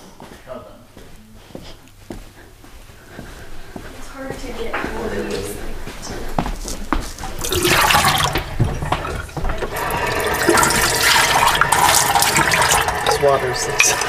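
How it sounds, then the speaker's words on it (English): Dirty watercolor and gouache paint water is rinsed out in a sink, the running and splashing water swelling louder partway through and continuing steadily while people talk over it. "we're going to take just a little bit of a break and rinse our water out"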